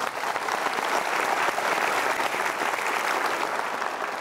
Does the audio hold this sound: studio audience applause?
yes